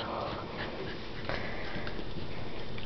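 Two Schipperke dogs play together nearby, giving soft sniffs, snuffles and small whimpering sounds over a steady low background, with no talking.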